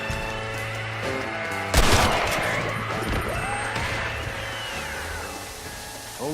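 Gunfire in Red Dead Redemption Undead Nightmare, a sharp loud volley bursting out amid a musical score, followed by scattered shots and clatter fading under the music.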